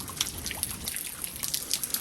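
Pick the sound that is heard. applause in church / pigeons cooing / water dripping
water dripping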